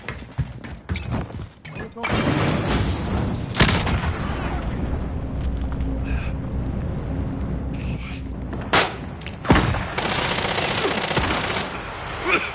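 Automatic gunfire and heavy thuds from a combat video game rattle in dense, sustained bursts, with sharp loud volleys and brief pauses, while a voice speaks over the din.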